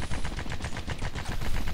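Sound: SMG gunfire in the video game Red Faction 2

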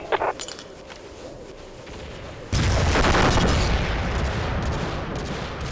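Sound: explosion and gunfire in the video game Global Operations

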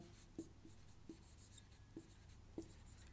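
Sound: writing examples by hand

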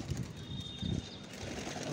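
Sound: pigeons being released and flying off

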